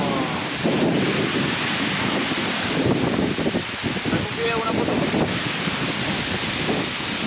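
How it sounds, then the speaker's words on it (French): Loud, constant roaring wind buffeting the microphone beside a powerful waterfall in Meta, Colombia, with a deep rushing of heavy falling water, and a voice speaking briefly in the middle. "il y a tellement de vent, elle est tellement puissante"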